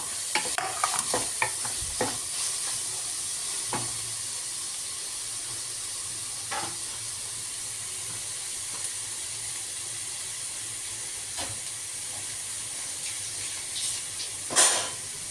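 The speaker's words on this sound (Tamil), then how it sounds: "இப்போ பாவக்காய் வந்து ஏற்கனவே ஆயிலில் வதக்கி வச்சுருக்கு" Bitter gourd sautés in oil in a kitchen pan with a soft, steady sizzle, broken by scattered sharp clacks and scrapes of stirring, and a louder knock near the end.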